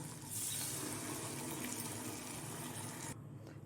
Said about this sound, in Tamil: இப்போது மிக்சி ஜாரை கழுவி கொஞ்சம் தண்ணி சேர்த்துக்கலாம்